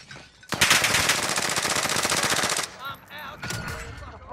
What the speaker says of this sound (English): Steven, hostile fire.